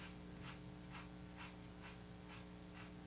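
Lines are marked on a drawing along a straightedge, giving soft, rhythmic scratching strokes about twice a second, quiet and close, with no talking.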